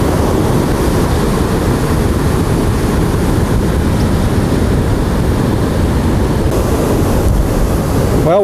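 Heavy ocean surf and strong wind buffet an Indialantic beach during Hurricane Michelle in November 2001, a constant loud roar of crashing waves and wind noise with no break.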